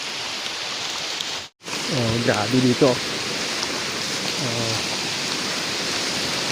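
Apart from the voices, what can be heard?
heavy water rushing down a path after rain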